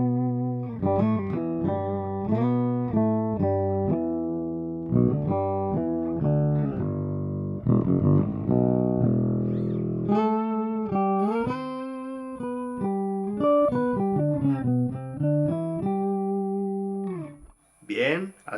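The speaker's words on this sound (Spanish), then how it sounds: "Aquí tenemos el pedal. Empezaremos por la octava de arriba." Electric guitar played through a Joyo XVI octave pedal set to the upper octave, producing a doubled, synth-like tone across melodic runs and sustained chords, loud and close with no talking.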